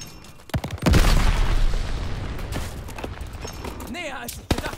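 A Goliath explodes in Call of Duty Vanguard multiplayer: a heavy thudding blast opens a long rolling rumble, with scattered gunshots, distant combat noise and a short voice call near the end.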